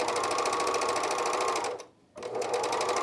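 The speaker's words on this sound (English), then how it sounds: "All right, so we're just going to start sewing." A sewing machine stitches a camisole strap, its steady fast motor whir running loud and close, pausing briefly for a moment of near silence before resuming.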